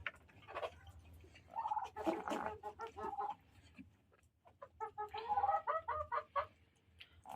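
Young free-range native chickens cluck nearby in short, irregular bursts of clucks and chattering calls with brief pauses between them.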